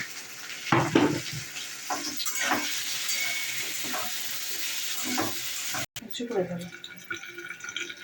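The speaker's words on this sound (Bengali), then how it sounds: "একটু হলুদ দিয়েছি, দিয়ে ভাজা শুরু করলাম" Taro with turmeric frying in oil, a steady sizzle close by, with a person talking over it and occasional scrapes of stirring.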